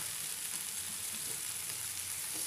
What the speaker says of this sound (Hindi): मसाला पक चुका है तो अब इसमें हम सब्जी डाल देंगे।